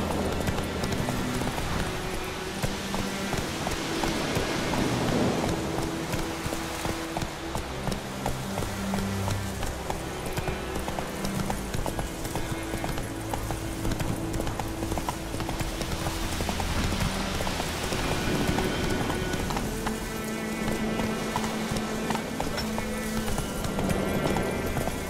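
A horse gallops in The Witcher 3 video game, its hooves drumming in a fast continuous clip-clop rhythm. The hoofbeats sit among background game music and ambience throughout, with no talking.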